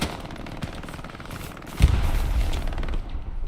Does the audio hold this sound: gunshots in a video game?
yes